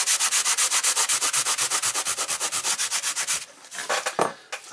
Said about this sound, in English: So I'm just going to rub this with green sponge